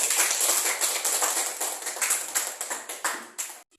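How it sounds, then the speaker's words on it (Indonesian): Students in a classroom applauding at the end of a lesson, steady close clapping from a small group that thins out and stops abruptly. "Kita berikan tepuk tangan."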